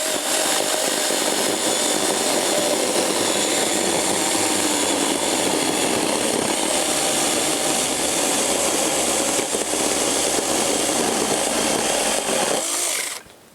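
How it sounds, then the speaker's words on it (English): A cheap battery mini chainsaw cuts through an unclamped 1x8 wooden board, a loud, steady high-pitched buzzing whine that holds continuously for about thirteen seconds and then cuts off abruptly. "I'll take a run through here, see how that goes."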